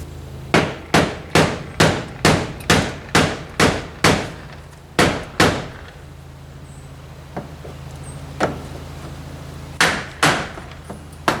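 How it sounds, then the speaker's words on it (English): A hammer taps a small block of wood against a pole barn door jamb, first in a quick run of about ten sharp, close knocks, then after a pause in a few scattered strikes. "So what I got now is I got a little block of wood and a hammer."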